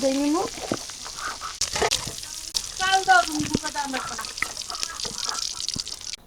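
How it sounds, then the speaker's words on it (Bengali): Hilsa fish fries in hot oil with a crackling, bubbling sizzle, heard close and under intermittent voices talking in a home kitchen. "ইলিশ মাছটা ভাজতে নিচ্ছে"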